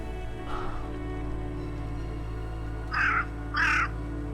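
A crow gives three harsh caws, one faint and then two louder ones close together near the end, over a steady low mechanical hum.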